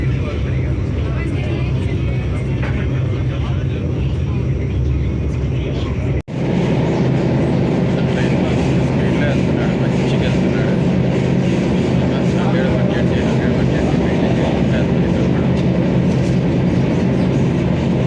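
A Vande Bharat express train running at speed between Secunderabad and Tirupati, heard from inside as a loud continuous rumble and rattle of wheels on track, with one momentary drop partway through.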